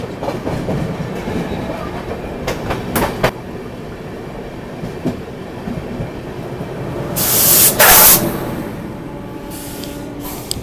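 Poorva Express, a superfast train travelling via Patna, running steadily on rails with a continuous rumbling roll and scattered clicks from the track, then a loud, brief hissing rush as it overtakes, with no voices.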